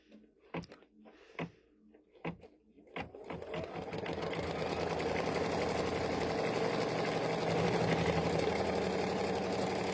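An embroidery machine stitching a template directly onto stabilizer starts after a few sharp clicks and taps, then settles into a steady, fast, rhythmic mechanical whir that runs loud and continuous to the end.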